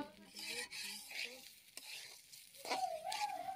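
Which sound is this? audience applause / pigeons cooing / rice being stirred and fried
rice being stirred and fried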